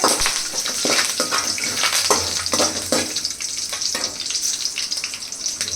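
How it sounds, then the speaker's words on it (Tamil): Dried red and green chilies sautéing in a pan for South Indian pepper chicken, a continuous crackling sizzle with repeated scraping stir strokes, close and fairly loud. "நல்லா வதக்கி வச்சுக்கோங்க"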